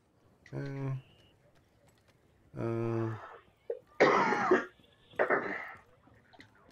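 Several harsh coughs and throat-clearing bursts come in bursts of a second or so, separated by quiet pauses, close to the listener.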